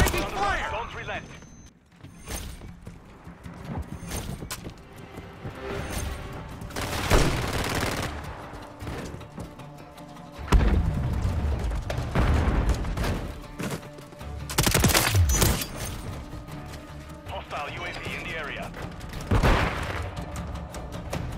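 Gunfire and grenade blasts in a Modern Warfare 3 team deathmatch: irregular bursts of automatic fire, sharp shots and several heavy booms, loud and close, with voices calling out over the action.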